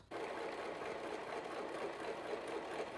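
A serger stitches fabric with a fast, continuous mechanical whir that starts abruptly and runs steadily at close range for about three seconds.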